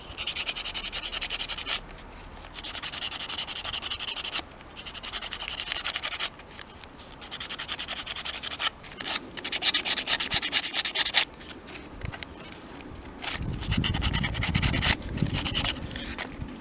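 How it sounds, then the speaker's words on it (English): A small button cut from a two-layer lolly stick rubbed against 120 or 150 grit sandpaper, close rhythmic scratchy strokes in bursts of a second or two with short pauses between. "I went then to 120 or 150 grit sandpaper"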